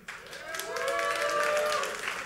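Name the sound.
audience applause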